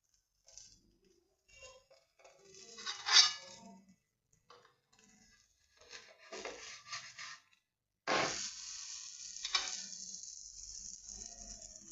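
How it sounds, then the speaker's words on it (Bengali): Mooli (radish) paratha frying on a hot tawa, giving a broad steady sizzle that rises after a stretch of scattered scraping and handling noises, close and fairly quiet, with no talking. "এবার এদেরকে একটু ভালো করে ভেজে তারপরে তেল দেব।"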